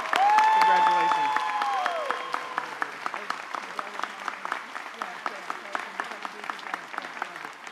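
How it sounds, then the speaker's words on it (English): Audience applause at a university graduation ceremony follows a speaker's voice over the PA, then thins into scattered, sparse clapping that tapers off. "please join me in a round of applause"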